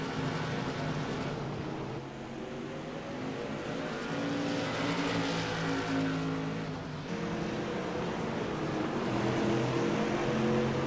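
Race cars lapping the Bullring short track at Las Vegas Motor Speedway during the ISTRA Shamrock 100 make a constant, dense engine roar that swells and fades slightly as the cars pass, with no talk over it.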